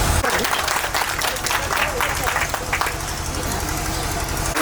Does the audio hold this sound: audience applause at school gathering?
yes